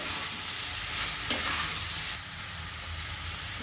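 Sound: stirring capsicum and potato sabzi in a pan

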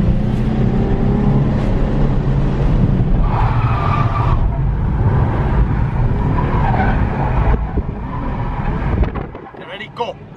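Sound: Nissan 350Z cars drifting with tire squeal

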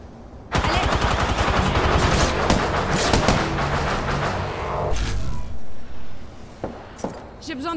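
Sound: gunfire in the video game Apex Legends

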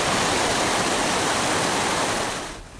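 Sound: rushing river water of cold lahar flood, Semeru

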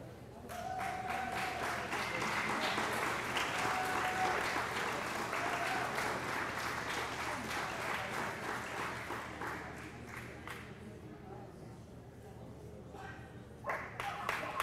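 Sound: audience applause at a dog show

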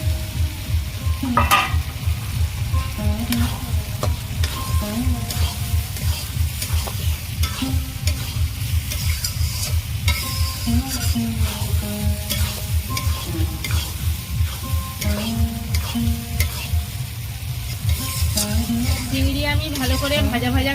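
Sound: prawns frying in gravy

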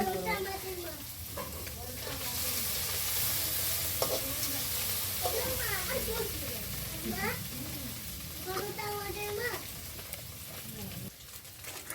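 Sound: khoira fish frying in a pan

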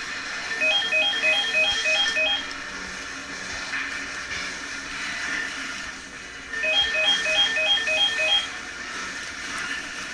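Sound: telephone ringing

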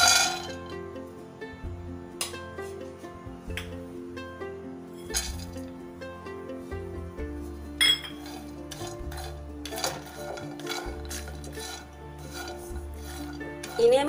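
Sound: dry roasting pistachios, almonds, cashews and walnuts in a wok

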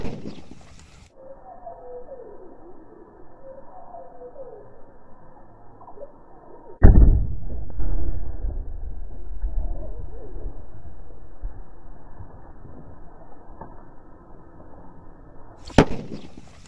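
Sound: sutli bomb firecracker exploding underground

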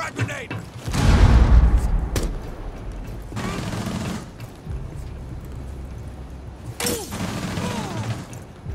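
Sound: frag grenade thrown in video game Rainbow Six Siege

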